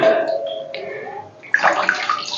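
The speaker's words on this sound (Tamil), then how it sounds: "சிக்கன் வேகிற அளவுக்கு தண்ணி ஊத்திக்கலாம்." Water is poured into a pot of simmering chicken curry, a splashing, gurgling rush that swells in the second half and carries on steadily at close range.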